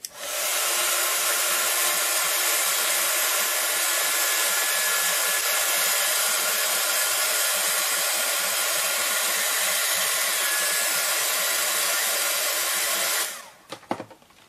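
A hair dryer blows on paint on a canvas, a loud steady whooshing roar lasting about thirteen seconds before it clicks off, followed by brief handling noise.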